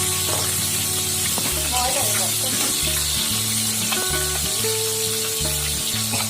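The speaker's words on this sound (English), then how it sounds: "The fish should be fried in high flame." Rohu fish sizzling in hot oil over a high flame, a steady crackling fry with background hum and rhythmic low tones running through.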